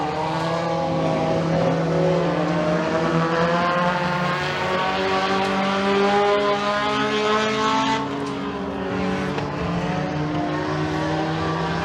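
Race cars lap McKean County Raceway during a heat race, their engines roaring loudly and steadily throughout with layered harmonic drone as the field circles the track, with a brief dip in intensity near the end.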